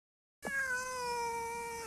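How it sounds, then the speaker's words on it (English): A single long, sustained cat meow from the 1991 film Strays, loud and close, starting abruptly after silence and holding steady to the end. "It's just a cat."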